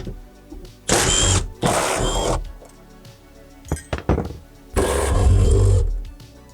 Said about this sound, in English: let's undo these seat brackets that you see here with a 12mm socket